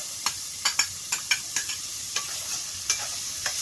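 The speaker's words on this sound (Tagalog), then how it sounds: "Ito yung ginisa natin sa kunting mantika lamang" Onion sautéing in a little oil for a pork bone soup, a steady soft sizzle broken by a dozen light scraping stirs at an uneven rhythm, close and fairly quiet with no talk.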